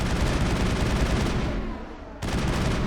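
Rapid assault rifle fire in Mass Effect 1 combat on Noveria, a loud continuous burst that briefly thins out for a moment before resuming at full intensity.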